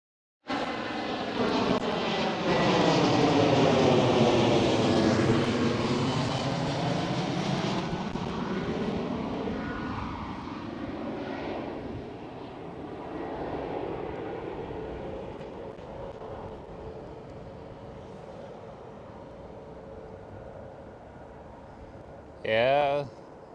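An airliner lands in a crosswind at Schiphol, its loud engine roar sweeping through a falling whine as it passes close by, then settling to a fainter rumble while people talk nearby.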